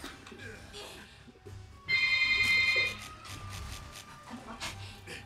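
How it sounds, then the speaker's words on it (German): A phone rings during a Monster Hunter Rise game session: a bright, steady electronic ringtone about one second long, loud and close, over quiet game sounds and faint background noise. "Das ist ein Telefon."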